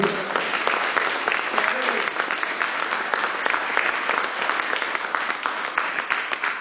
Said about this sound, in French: Est-ce qu'on peut acclamer le Seigneur Didier?